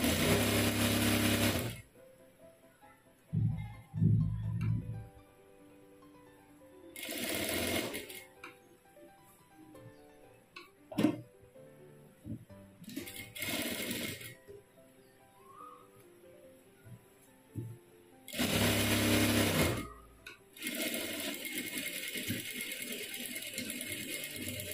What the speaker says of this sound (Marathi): तर आता मी फिटिंगची शिलाई देऊन घेते, मीतून एक शिलाई देऊन घेते आता।